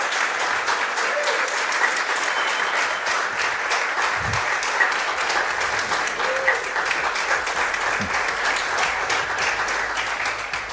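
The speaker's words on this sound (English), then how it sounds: "best round of applause ever" A restaurant audience applauding steadily and loudly, dense sustained clapping with a few faint cheers mixed in.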